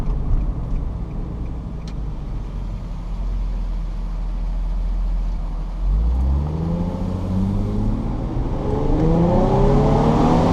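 A 2005 Infiniti G35 coupe heard from inside the cabin while driving, a steady low engine drone and road roar that rises in pitch as it accelerates in the second half, with no talking.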